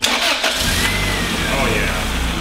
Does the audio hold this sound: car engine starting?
yes